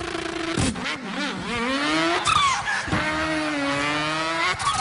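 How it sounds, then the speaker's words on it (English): A car engine revs and accelerates up close, its pitch climbing in repeated rising sweeps with brief dips between pulls, loud and with no talking. "Drive to the school by car."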